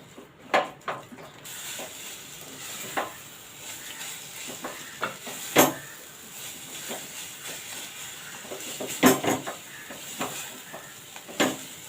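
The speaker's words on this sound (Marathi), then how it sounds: "आता हे मसाले जरा चांगले मिक्स करून घेऊया परतून घेऊया" Onion and spices for rajma masala being sautéed in a pan, with a soft sizzle under irregular spatula scrapes and occasional sharp knocks against the pan, moderately near.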